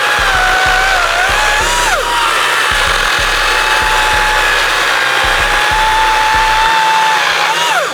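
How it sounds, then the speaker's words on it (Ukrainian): Dnipro-M chainsaw with a freshly sharpened chain cutting through a log clamped in a vise, a steady high engine whine with repeated bursts and pitch dips as the chain bites, loud and close with no talk. "Закріпив наші майбутні дрова у лещатах і давайте їх відріжемо"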